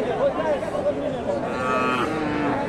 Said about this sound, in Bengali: সুন্দর একটা গাভী বাচ্চা।